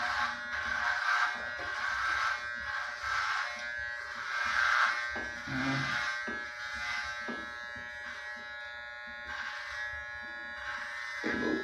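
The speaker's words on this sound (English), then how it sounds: "These Andis T outliners are great for giving" An Andis T-Outliner electric trimmer buzzes in short, uneven bursts as it cuts hair on a bald-head trim, its steady whine rising and falling with each pass.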